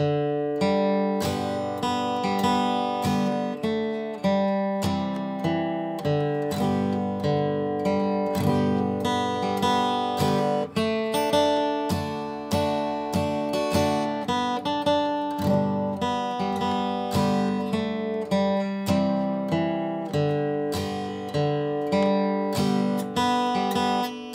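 The hymn Amazing Grace picked out on guitar with full strummed chords beneath, steady and unhurried, played alone without any voices.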